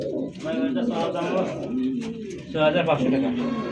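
Almond Jacobin pigeons cooing in a pigeon market, soft low rolling coos repeating close by while someone talks over them.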